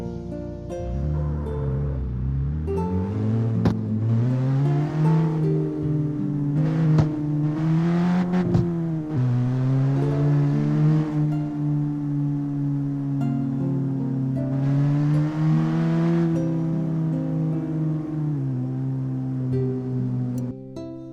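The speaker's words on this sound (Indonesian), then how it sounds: "Kayaknya suara mesinnya terlalu besar." A car engine in the racing video game CarX Street revs and drones continuously, its pitch climbing and falling through gear-like shifts, loud and close with no talking.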